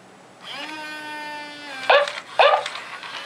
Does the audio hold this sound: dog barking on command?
yes